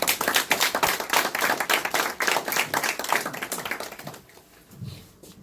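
A lecture audience claps in welcome, a dense run of applause that fades out after about four seconds.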